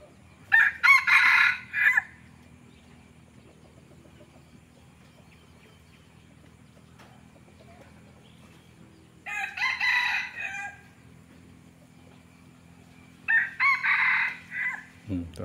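A red junglefowl rooster crows three times, each call a bright, strained burst heard clearly over a quiet, low-humming background, with long pauses between calls.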